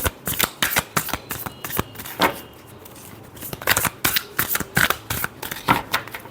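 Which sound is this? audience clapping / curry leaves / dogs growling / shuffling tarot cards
shuffling tarot cards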